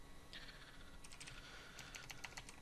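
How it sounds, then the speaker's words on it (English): Keystrokes on a computer keyboard while working in 3D texture software, two short bursts of quick taps, fairly quiet against a low background hum, with no talking. "start typing in texture"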